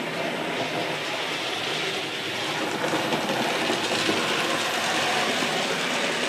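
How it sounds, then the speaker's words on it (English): A model train locomotive runs at full speed around a layout, giving a steady, continuous mechanical whir and rumble that holds at an even level throughout, with no talking. "Train's going around the layout at full speed."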